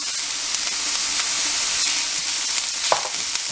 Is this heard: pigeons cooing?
no